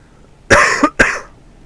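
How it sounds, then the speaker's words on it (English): Two quick, close coughs from a man who is under the weather, the first with a short rasping tail, heard alone against a quiet background. "you have to excuse me if I cough a little bit today"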